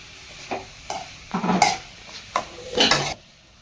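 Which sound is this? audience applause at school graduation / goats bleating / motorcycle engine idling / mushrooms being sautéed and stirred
mushrooms being sautéed and stirred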